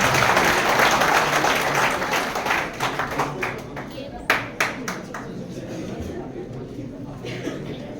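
Audience applause welcoming a speaker at a Constitution Day celebration, a steady wash of clapping from a crowd that thins toward the end into a few scattered, separate claps.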